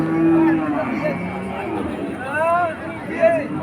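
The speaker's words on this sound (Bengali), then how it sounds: "দারুণ একটা হাট, এখানে অনেক গরু আছে।" Cows moo repeatedly at a busy cattle market, several drawn-out calls near and far over a background of crowd chatter.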